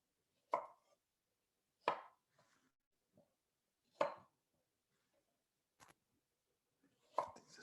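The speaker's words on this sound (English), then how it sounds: "The carrots, just going to cut them in half this way." A knife cuts carrots in half on a cutting board, giving four or five separate, sharp chops spaced a second or two apart with near silence in between.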